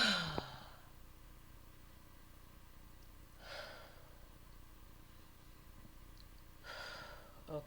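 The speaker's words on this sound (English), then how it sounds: "first things first priorities breathe 3 times" Slow, deep breaths taken alone in a quiet room, each a soft airy rush separated by long silences, rather faint and close.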